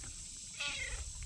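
A domestic cat meows briefly indoors among potted basil and pepper plants, a single short call rising over a faint background hum.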